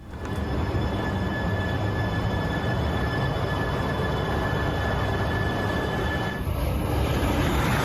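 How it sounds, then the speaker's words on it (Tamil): A high-speed bullet train on a test run in Japan, steady loud rumble of rolling wheels and rail noise with a sustained high whine throughout, no talk. "ஜப்பானில் நடைபெற்றது இந்தியாவின் முதல் அதிவேக புல்லட் ரயில் சோதனை ஓட்டம்."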